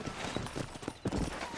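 Horse hooves clip-clop in a steady riding rhythm in the Western video game Red Dead Redemption, close and fairly loud, with a few other game noises mixed in.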